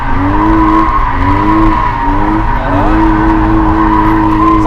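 Car drifting on a track with tires skidding and squealing in a loud, sustained wail that bends in pitch over a steady engine roar, close by, no talking.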